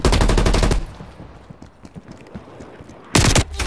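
Automatic gunfire in the Call of Duty Cold War video game: a loud, dense rattling burst opens, quieter scattered shots and game ambience follow, then a second sharp volley hits near the end.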